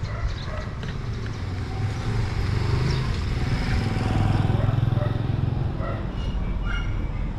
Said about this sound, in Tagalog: Tricycle na yun.